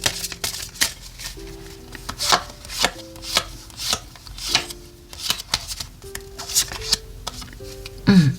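Tarot cards shuffled and drawn from a deck, with repeated crisp riffling and sliding bursts of card rustle in a steady rhythm, close and fairly loud, with faint music or tones in the background.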